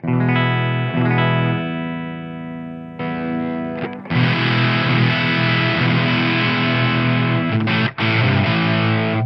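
An electric guitar rings out clean chords, then switches to a thick, heavily distorted crunch through a modded BOSS DS-1 distortion pedal with strummed chords, loud and close, no talking.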